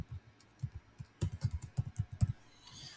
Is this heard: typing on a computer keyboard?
yes